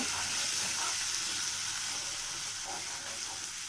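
A cashew and poppy seed paste frying in hot oil in a pan, giving a steady, loud sizzle and hiss throughout, with soft stirring scrapes underneath and no voices.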